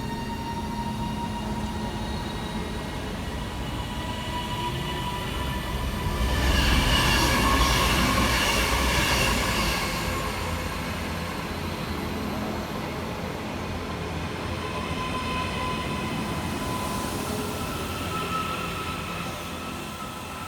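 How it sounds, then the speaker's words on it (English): Northern Class 331 electric unit 331101 passing through Levenshulme station, a steady rail rumble with wheel noise that swells midway as the train draws nearest, then holds at a lower level. "kicking us off we have 331101 working the 10:55 Northern service from Alderley Edge through to Manchester Piccadilly"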